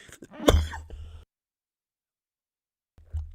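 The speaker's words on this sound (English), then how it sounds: "I was like one more cough than I was expecting on that one." A single harsh cough with throat clearing from a man at a lacrosse postgame show, close and loud, followed by silence and a brief second throaty burst at the end.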